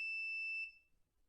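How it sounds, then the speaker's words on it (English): An Arduino buzzer alarm sounds as a single steady high-pitched electronic tone, loud and clean, holding for about half a second before cutting off into quiet. "we'll see the yellow and red LEDs flashing along with the buzzer going off"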